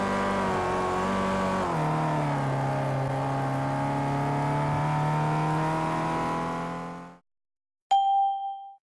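A car engine in a racing video game howls at full throttle, a steady high-pitched roar with one drop in pitch like a gear change, cutting off abruptly before a short bright chime rings out.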